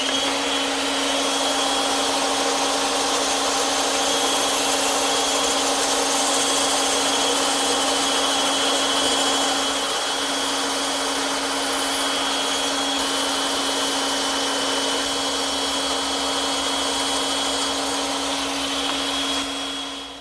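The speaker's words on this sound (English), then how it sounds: "And now I'm ready to cut those out using my bandsaw." A bandsaw cuts candle stand legs from 3/4 inch wood stock, giving a steady, loud, continuous whine with a strong constant hum for about twenty seconds, with no voices.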